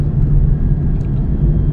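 Car fitted with a Corsa exhaust rumbling at close range, a loud, steady low-pitched drone lasting under two seconds with no talking.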